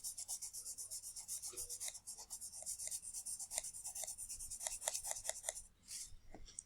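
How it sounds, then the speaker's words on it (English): Graphite pencil shading on paper while rendering a concrete surface, rapid rhythmic back-and-forth scratching strokes, quiet and close, with a brief pause near the end. "So again, I'm keeping my pencil moving for this direction"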